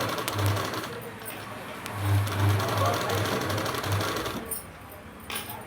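An electric sewing machine stitches a dress top in short bursts of rapid low whirring separated by brief pauses, heard up close over background room noise.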